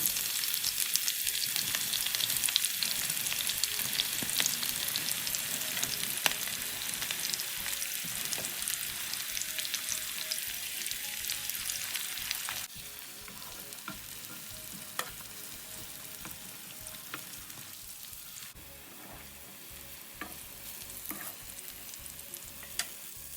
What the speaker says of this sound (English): I'm just going to fry these until nice and golden